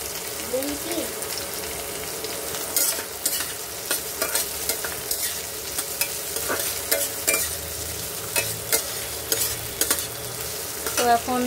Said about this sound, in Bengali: এবার এটা ভাজবো